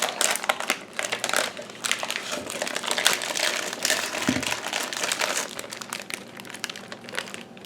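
Plastic kielbasa package being pulled and torn open, a loud, continuous close crinkling and crackling of wrapper that lasts throughout without speech.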